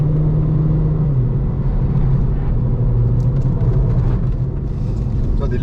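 A car on a racing circuit powers out of a corner, its engine rumbling loud and close with rising revs, while an instructor talks over it.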